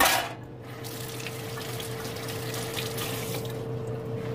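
A kitchen tap runs steadily into a sink while food is washed for batch-cooked soup and potatoes, a soft continuous water hiss with a low hum beneath, fairly quiet and alone.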